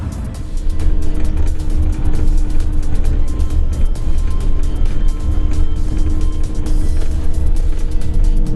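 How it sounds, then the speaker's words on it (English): A big bus climbs a narrow mountain road, its engine giving a steady, loud, close rumble with constant road and motor noise throughout and no voices. "It's a bit harrowing going up the mountain on these big buses and very narrow roads."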